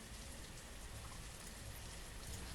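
Steady rainfall in the village-building game Banished, a dense continuous hiss of drops that stays even and loud throughout, with no voices over it.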